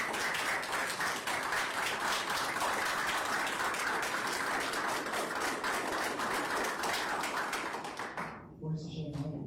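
A crowd at a school board meeting gives dense, loud applause for the board members for about eight seconds, then the clapping drops away as a voice begins speaking.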